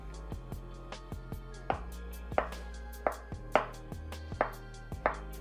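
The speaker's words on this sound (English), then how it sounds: "And now thinly slice the avocado." Knife thinly slicing an avocado, a run of evenly spaced crisp cuts on a board, close and clear with no talk.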